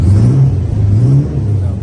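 1976 Rover 3500 P6 with its V8 running, loud and close, a low pulsing rumble with small rises in revs.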